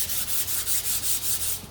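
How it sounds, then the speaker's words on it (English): Sandpaper rubs along the grain of a painted wood sign in quick, rhythmic back-and-forth strokes, a close, steady scratchy swish repeating about every fifth of a second. "I'm gonna take my sandpaper and give this a sand with the grain."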